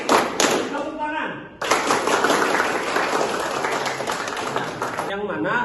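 A classroom of students claps together in a group clapping game, a dense burst of hand claps running several seconds after a brief pause, with voices mixed in.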